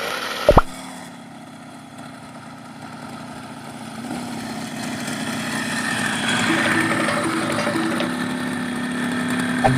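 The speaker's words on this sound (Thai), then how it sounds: "วันนี้ก็มาวัดเจ้าจักรยานติดเครื่องให้ดูนะว่า ขับได้ประมาณนี้นะทุกคน" A motorized bicycle's small engine drones while riding, starting faint after a sharp knock and gradually growing louder and steadier, heard from close by with wind noise.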